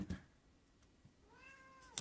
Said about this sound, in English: My cat is here meowing.